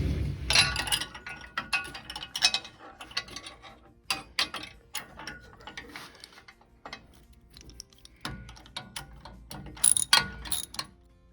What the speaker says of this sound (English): we're going to take a 1/2" wrench and a 1/2" socket, and we're going to tighten the 1/2" bolt